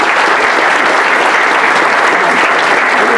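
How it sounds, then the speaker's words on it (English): A school board meeting audience breaks into loud, dense applause for a student athlete, continuous and even throughout with no gaps. "So we want to give her a round of applause."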